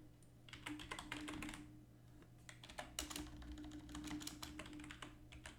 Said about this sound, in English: For once, I'm not going to read out what I'm typing